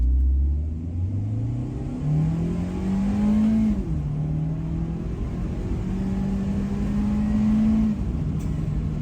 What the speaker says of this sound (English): we have to do a full throttle dig from a stop in sport mode and the manual shifting mode